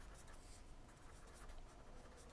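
Writing on a board during a Class 11 chemistry lesson on thermodynamics: a soft, steady scratching and rubbing that runs continuously and faintly, with no spoken voice.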